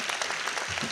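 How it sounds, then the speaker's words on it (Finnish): Audience applause at a comedy roast, a short dense burst of clapping filling the room. "Annetaanpas Jannelle vielä kunnon aplodit"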